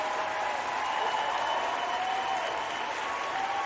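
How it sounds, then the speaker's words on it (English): A clapping sound effect of steady, dense applause plays at an even level for the whole stretch, with no talking over it. "there's this really cool clap audio file that Loki has that you should borrow"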